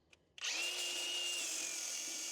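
A power tool grinds metal on a Big Tex 14-foot tilt trailer during a winch install, starting abruptly after a brief click and running steadily loud and close with a high whine, no talk.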